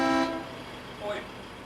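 A vehicle horn blares in one loud, short honk at the start, followed by a fainter second toot about a second later, with speech faintly present.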